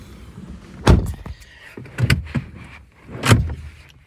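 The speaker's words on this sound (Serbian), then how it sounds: "na vozačevim vratima 4 elektronska podizača stakala" Electric power windows on a Volkswagen Golf VII diesel run in short bursts, three distinct motor whirs with soft thuds as the glass stops, each separated by brief quiet inside the car.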